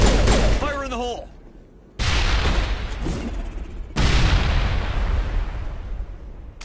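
Grenade blasts and gunfire in the Mass Effect video game: three loud, sharp broadband bursts, each decaying into rumbling noise, with a brief voice shout near the start.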